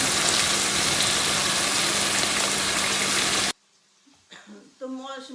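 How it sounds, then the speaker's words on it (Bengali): Meat braising and frying in a pan gives off a loud, steady sizzle for several seconds. The sizzle then cuts out abruptly and a voice begins speaking. "মাংসটা কষাতে দিচ্ছি"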